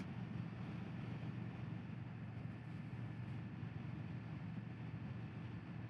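Indian Sport Scout Limited motorcycle, 2025 model, heard while riding: a steady low engine drone with rushing wind noise across the whole stretch, no voices.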